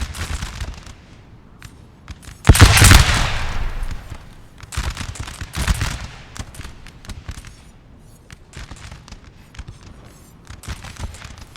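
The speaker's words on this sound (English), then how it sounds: "Let's have a volley from the 12-pounders." Booming cannon fire from 12-pounder guns in a Napoleon Total War battle: a loud volley bursts out, then scattered further gun reports follow at irregular intervals.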